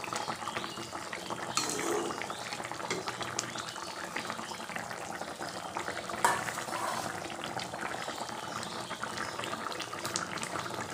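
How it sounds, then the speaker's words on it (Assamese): Tomato fish curry without potato bubbles in a pot on a gas flame with a continuous soft boil, steady hiss and small pops. A few louder bursts stand out and nobody talks. "ধুনীয়াকৈ উতলি আছে আঞ্জা।"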